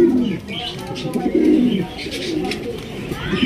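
Pigeons coo softly and steadily at a pigeon farm in Bangladesh, a low murmuring chorus of several birds with occasional faint chirps, no voices.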